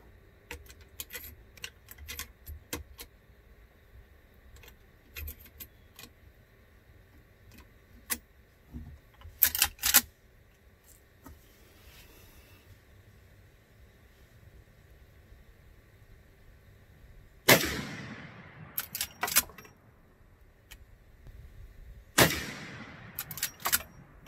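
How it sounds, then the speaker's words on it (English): Rifle shots ring out downrange toward a target, fired with hand-loaded cartridges behind Nosler bullets in a brush gun, sharp loud cracks spaced several seconds apart with quiet handling noises between them. "let me shoot 3 rounds downrange just at the target"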